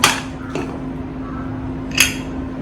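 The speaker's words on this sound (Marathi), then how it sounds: "आपला कुकर हा आता थंड झालेला आहे तर आपण आता हे उघडून पाहूया" Metal clinks from the lid of a cooled pressure cooker holding val khichdi being handled and opened: two or three sharp clanks, close and brief, over a low steady hum.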